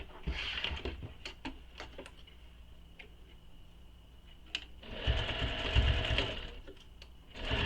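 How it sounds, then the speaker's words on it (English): A sewing machine stitches a bag seam in two close runs of rapid, even whirring, one short burst early on and a longer louder stretch later, separated by quiet ticks and clicks of handling. "we're going to sew this with the seam allowance given in the pattern"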